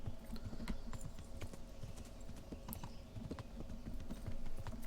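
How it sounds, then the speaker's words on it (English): Horse hooves clip-clop in the medieval video game Kingdom Come: Deliverance, a quick irregular patter of light knocks over a dense, steady ambient bed, fairly faint throughout. "A horse is here. I wonder whose it is."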